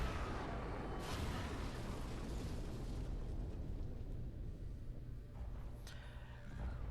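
Rumbling explosions as airships bombard the area in Guild Wars 2, a dense continuous roar of blasts with sharper bursts standing out near the start and near the end.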